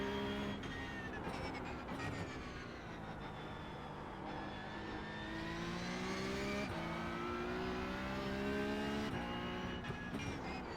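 Porsche 911 Cup (992.2) race car in a racing video game at Long Beach, its engine droning steadily throughout, pitch climbing and dropping sharply as gears shift, loud and continuous with no talk.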